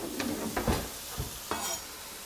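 Bell pepper and pork fried rice sizzles steadily in a pan, a continuous frying hiss broken by a few soft stirring scrapes and knocks.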